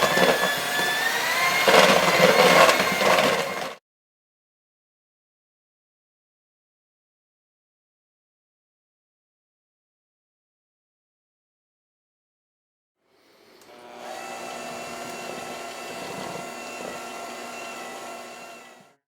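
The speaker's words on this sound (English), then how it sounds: "now what we're going to do is we're going to blend this all together" A blender whirs loudly while mixing chocolate cake batter, running for a few seconds, then falling silent for a long pause before starting again at a steadier, slightly lower pitch.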